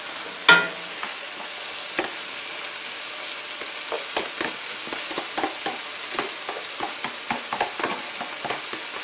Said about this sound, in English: Return the green onions and garlic to the pan.